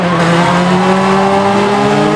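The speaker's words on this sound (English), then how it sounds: "Trash car racing had all sorts of old cars and vans make an appearance" Old cars and vans race in a trash car race at a demolition derby on a fairground track. Loud, continuous engines drone with steady rising and falling whines, close and unbroken throughout.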